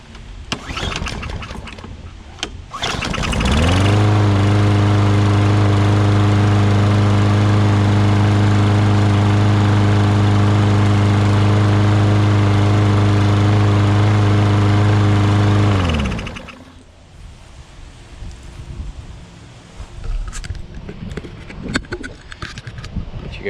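Briggs & Stratton small engine running after a carburetor cleaning with the air filter off, catching after a few seconds and roaring loud and steady at close range for about twelve seconds before cutting off to quiet handling noises.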